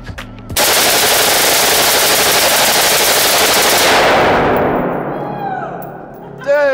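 A .50 caliber quad-mounted machine gun at a Las Vegas shooting range fires one loud, sustained burst of rapid shots for about three seconds, then the echo fades away and a voice speaks.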